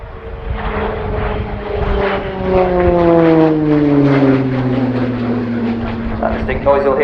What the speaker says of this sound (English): That distinct noise you'll hear throughout the display is the uprated Garrett TPE turboprop engine fitted to the RF Tucano